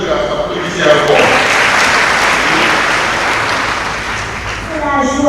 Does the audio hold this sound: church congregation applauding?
yes